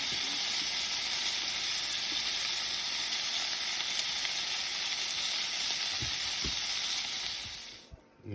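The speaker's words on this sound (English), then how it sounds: "we've got our sausage and black pudding sausages cooking away" Sausages and black pudding sausages sizzle steadily in a pan on a camper van stove, a dense continuous frying hiss with a few soft pops near the end before it cuts off.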